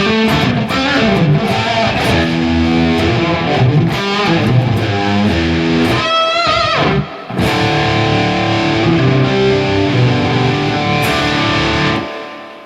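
Loud electric guitar played through Guitar Rig stock effects patches with heavy distortion, strummed chords and quick riffs with a brief pause midway before the playing resumes.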